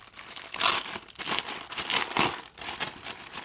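A small leather bag from a board game box being opened, giving close, soft crinkling and rustling in several short bursts with brief pauses between them.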